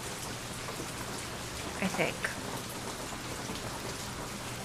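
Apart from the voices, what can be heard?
rain in the video game Nancy Drew: Legend of the Crystal Skull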